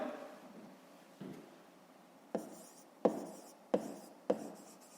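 A pen writing in a math exercise book during a fifth-grade lesson: short, close scratchy strokes in a few separate bursts, faint and steady, with no voices.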